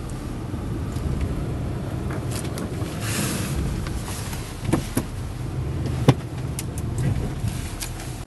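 Steady engine and tyre rumble from a car driving up to a small house, moderately loud and continuous, with a few brief clicks and knocks near the end.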